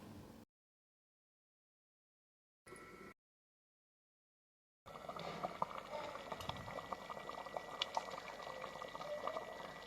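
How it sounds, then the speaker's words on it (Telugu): Andhra pappu pulusu, a lentil stew, bubbling and simmering in a pressure cooker, a steady close bubbling texture that runs continuously through the latter half after brief bursts earlier. "పప్పు బాగా ఇలా ఉడికిందన్నప్పుడు ఆఫ్ చేసుకుంటే సరిపోతుంది"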